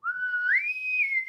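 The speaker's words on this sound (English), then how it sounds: "No, that's a slide whistle." A single sustained whistle tone glides upward, steps higher, then holds and dips slightly, sounding like a slide whistle played up close and clearly, with no talk over it.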